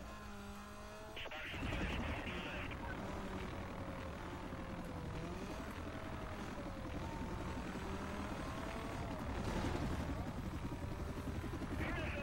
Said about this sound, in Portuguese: Vamos, helicóptero.